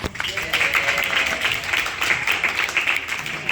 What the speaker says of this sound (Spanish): Ahí está ese premio, bien, un aplauso.